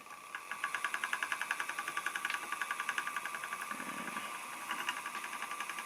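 An EEW Nano 2 electric spinning wheel runs steadily with a fast, even mechanical pulsing hum at close range, holding constant throughout with a brief higher whir midway.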